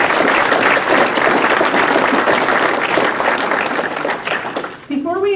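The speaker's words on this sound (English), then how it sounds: "Let's give them all a round of applause" Applause from the audience at a college scholarship banquet, loud continuous clapping from a room full of people that tapers off near the end as a voice begins speaking.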